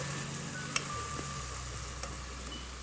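Onions sizzle steadily in a pan on medium-high heat for a chicken stew, a soft, even frying hiss with a couple of faint clicks, close by and with no talking.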